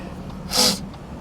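A single short, sharp sniff through the nose from hay fever, close and brief, against quiet background hiss.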